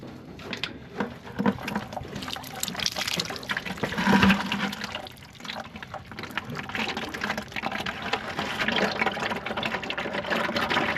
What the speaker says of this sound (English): Take out the transmission fluid